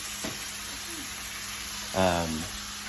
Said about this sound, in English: Basically just saute that up. Let it get hot.